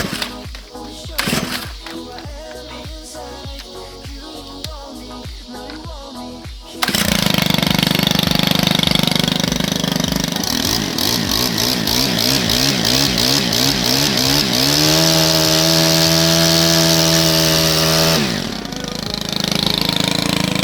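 A repaired gas string trimmer starts up after quieter shop noise and runs loud and close for about fourteen seconds, its engine note shifting as it revs up and down before settling into a steadier drone.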